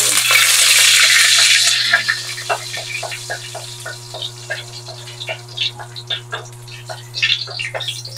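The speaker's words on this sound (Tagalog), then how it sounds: "Gisa ko lang yung ginger." Ginger sautéing in a hot pan, opening with a loud hiss that fades after about two seconds into a run of quick, close stirring scrapes and light sizzling.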